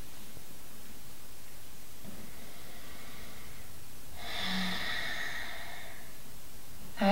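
A slow, deep yoga breath, a soft airy inhale swelling into a fuller, louder exhale near the middle, then quiet, with a brief breathy sound at the very end.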